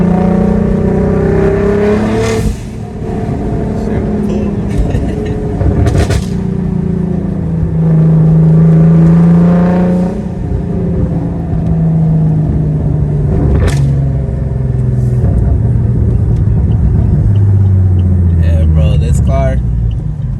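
A turbocharged 2008 Saab 9-3 Aero XWD cruises along with a loud, close engine drone that rises and falls. People talk throughout over the steady rumble.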